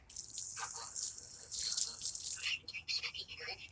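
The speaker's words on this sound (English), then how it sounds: "You just got water poured on you, dude." Water is poured over an orange Furby Connect toy in bursts, splashing and dripping close by across several seconds with brief trickling pauses.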